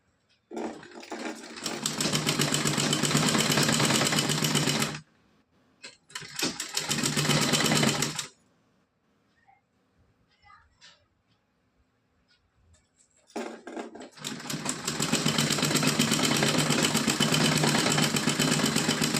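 An electric sewing machine runs in two long bursts of steady whirring while stitching a cotton dress for a Laddu Gopal idol, stopping for a quiet pause before starting up again, near and alone.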